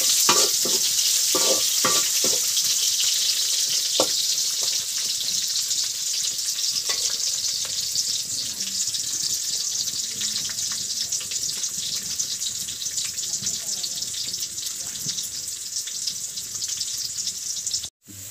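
Onions fry in a pan with a loud, continuous close-up sizzle lasting well over fifteen seconds, broken early by a few clinks of stirring, then cutting off abruptly at the end.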